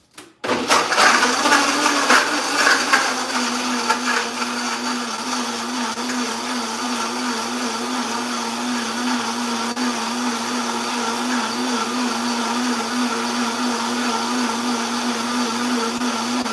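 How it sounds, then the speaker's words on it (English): A kitchen blender whirs loudly and steadily while blending coconut milk, starting with a burst and holding a constant high-pitched motor hum for a long stretch, no talking. "I will be blending it at the back of here."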